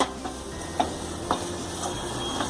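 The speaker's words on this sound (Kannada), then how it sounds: "ಇದನ್ನು ಚೆನ್ನಾಗಿ ಮಿಕ್ಸ್ ಮಾಡ್ಕೊಳ್ಳೋಣ" Methi rice is stirred in a pan with cumin powder and salt under a soft, steady sizzle, with a few light taps and scrapes of the spoon spaced about half a second apart, close with no voice.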